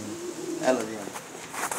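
A large pearl-marked pigeon cooing, a short low call close by, with someone talking over it.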